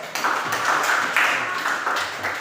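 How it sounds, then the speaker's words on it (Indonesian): Students in a classroom give a short round of applause for a classmate, a few bursts of quick, fairly close clapping that swell and fade over a couple of seconds. "Tepuk tangan buat Ines."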